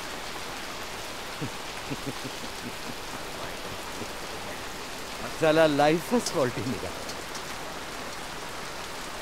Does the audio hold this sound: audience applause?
no